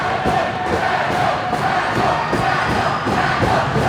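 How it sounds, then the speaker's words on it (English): A packed hockey arena crowd roars steadily through an overtime period of a high school girls' championship game, a dense, loud wall of cheering and shouting with no pauses. "The crowd reaches a fever pitch at Fred Rust Arena"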